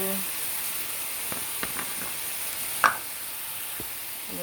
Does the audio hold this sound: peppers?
yes